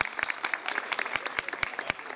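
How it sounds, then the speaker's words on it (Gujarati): Light, sparse clapping from a small group of former students at a school reunion, a few distinct close hand claps in an uneven patter. "ખૂબ તાળીથી વધાવો"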